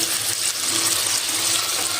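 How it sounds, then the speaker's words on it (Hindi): About a quarter cup of water poured into a cooking pot while making white chicken karahi, a steady close splashing pour running the whole time without pause or talk. "मैंने इसमें 1/4 कप पानी डाल के इसको थोड़ा लिक्विड ही कर लिया"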